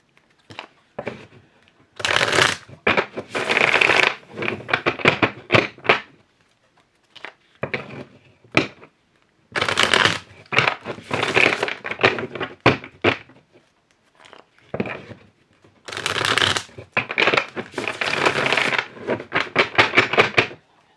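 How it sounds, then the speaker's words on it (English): A deck of cards is shuffled several times in quick riffling bursts, each a few seconds long, with short quiet pauses between. "Let me shuffle the cards a little bit."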